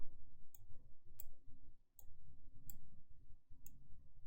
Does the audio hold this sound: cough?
no